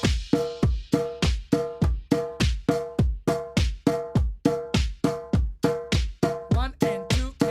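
A djembe is played in an even, steady pattern of two hits per beat, with about thirty sharp resonant strikes close to the listener. A voice briefly sounds near the end.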